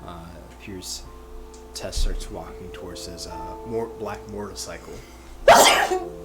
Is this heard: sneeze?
yes